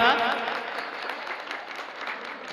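An audience applauds at a religious katha and felicitation gathering in Odisha, a brief burst of clapping that starts loud and slowly fades.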